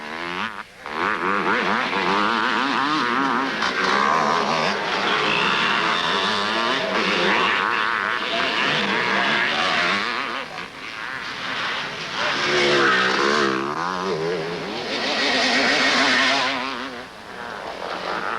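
Racing motorcycles screaming past on a track, a loud sustained engine roar with rising and falling pitch as the bikes pass close.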